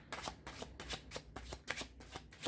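A deck of astrological cards is shuffled in a steady run of about eight quick riffling bursts, close and fairly soft, with no voices.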